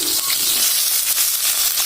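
Eggplant and green chilies hit hot oil in a pan where potatoes were already fried, giving a steady, loud close-up sizzle and crackle that runs unbroken with no talking.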